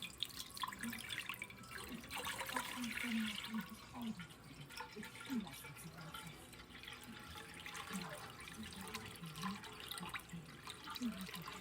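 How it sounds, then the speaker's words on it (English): Distilled water is poured into a cooking pot for boiling jasmine rice, a faint, continuous trickle and splash with soft dripping in a quiet kitchen. "I'm just going to pour our distilled water in here."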